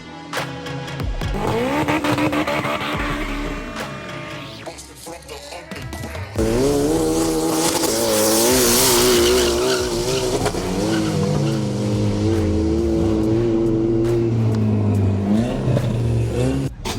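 Turbocharged Toyota Starlet with a 2ZZ engine, a front-wheel-drive drag car at Vernamfield in Jamaica, launching hard with a rising engine roar, tire squeal and rapid gear-change revving, loud and close.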